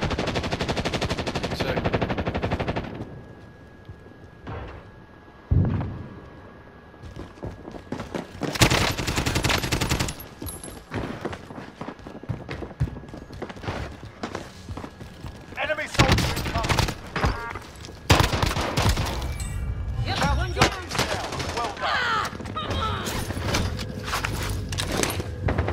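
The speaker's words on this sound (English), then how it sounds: "how many kids are shooting at me right now?" Rapid automatic gunfire and bursts of shots from Call of Duty: Modern Warfare multiplayer, loud and repeated in clusters throughout, with game effects and a voice speaking over the action.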